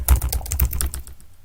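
Rapid keystrokes on a computer keyboard while HTML is typed, a close, dense run of clicks that thins out toward the end, with no talking.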